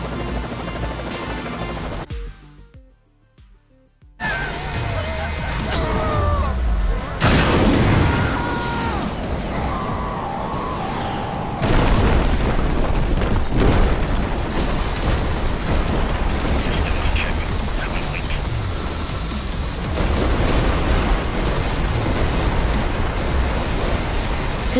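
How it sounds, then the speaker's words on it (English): Booming video game explosions from Screamride and crashing rumbles erupt repeatedly after a brief quiet gap, with a dense roar of destruction filling the rest. "Contiguous explosions. Extensive damage noted."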